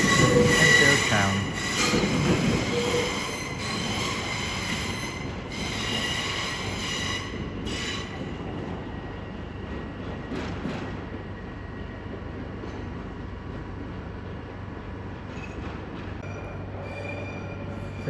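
A train runs along the rails at a London terminus, wheels squealing and rumbling fairly close at first, then settling into a softer, steady rolling noise that carries on for the rest of the passage.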